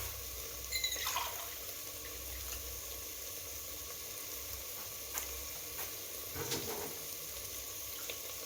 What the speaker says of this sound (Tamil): இதில் 3/4 கிளாஸ் தண்ணி விடுவேன்னா.